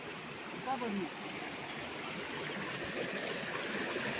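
A river flows steadily nearby, a broad continuous wash of rushing water with a brief faint voice near the start.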